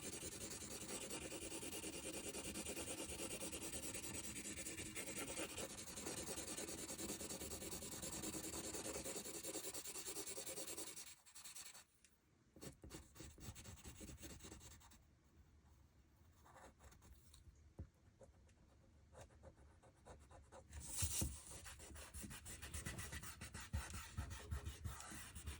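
An eraser rubs back and forth over a pencil drawing of a hand on paper, giving a faint, close, papery scrubbing that comes in uneven bursts with short pauses.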